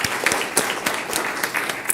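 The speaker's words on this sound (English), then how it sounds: "We can give them a round of applause." Audience applause at a school district governing board meeting, a short stretch of steady clapping from a crowd, fairly loud and continuous.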